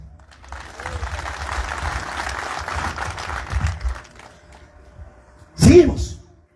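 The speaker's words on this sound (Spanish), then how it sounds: "¿Cuántos dan palmas a Cristo?" Church congregation in Ayacucho clapping their hands together in sustained applause for several seconds, then fading, followed by a short loud burst near the end.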